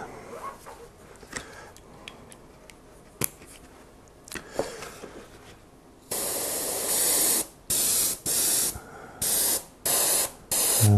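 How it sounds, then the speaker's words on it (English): Badger airbrush spraying cleaner fluid, starting with light handling taps and clicks, then a loud continuous airy hiss that breaks into a series of short repeated spray bursts, close up. "I shall just put some Badger's cleaner into the airbrush"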